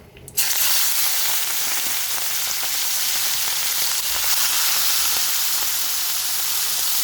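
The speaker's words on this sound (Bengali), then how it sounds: "তেলটা গরম হয়ে গেছে, এবার আমি চিংড়ি মাছগুলো তেলে দিয়ে দেব" Small prawns dropped into hot oil set off a sudden, loud, steady sizzle that hisses on evenly without a break, close up and with no talking.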